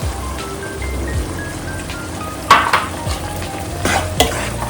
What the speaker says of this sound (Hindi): अब मैं इसमें सरसों, जीरा, गोलमरीच, धनिया का पेस्ट डालूंगी